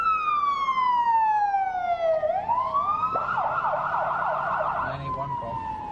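A loud, close siren wails in a falling tone, then switches to a rapid warbling yelp before fading slightly over steady road noise.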